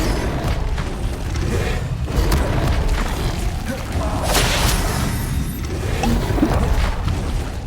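Incendio fire spell cast in Hogwarts Legacy, heard as repeated fiery whooshing bursts and booming combat impacts over a dense game soundscape, with a voice calling out spell names between them.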